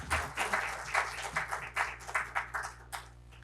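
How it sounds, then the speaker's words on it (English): Applause from an event audience at a GIFT City professionals' gathering, heard as a loose run of distinct hand-clap bursts at moderate level, with no speech over it, thinning out toward the end. "He needs a more louder round of applause"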